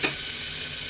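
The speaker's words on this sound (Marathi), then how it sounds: "कांदा भाजून घेतो." Chopped onion sizzles and fries in a pan, a cooker close by in a small home kitchen, giving a steady bright hiss after a short stirring sound at the start.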